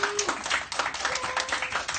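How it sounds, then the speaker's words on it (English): Applause for an award-winning kindergarten student, a moderate round of clapping from a small group with a faint voice briefly heard under it. "let's give him a big round of applause"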